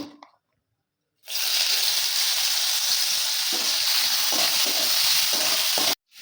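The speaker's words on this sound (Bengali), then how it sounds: "এখানে আমি গাজর কুচিয়ে রেখেছি, গাজরগুলো ভেজে নেব।" Chopped carrots fry in hot white cooking oil in a pan, giving a loud, steady sizzling hiss that starts abruptly and cuts off just before the end, with faint stirring scrapes underneath.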